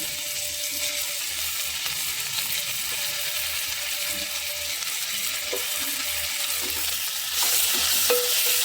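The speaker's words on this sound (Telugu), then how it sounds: "మనం క్లీన్ చేసి పెట్టుకున్న రొయ్యలు వేసేద్దామండి" Cleaned prawns sizzling with onions in a pan make an even, hissing fry throughout, with a few faint utensil clicks and a louder burst of sizzle near the end. Close and steady, with no talking.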